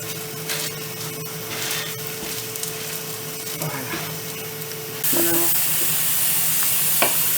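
Msemen dough cooks on a very hot frying pan with a steady sizzle and hiss, growing louder and brighter partway through as the flatbread is pressed or moved.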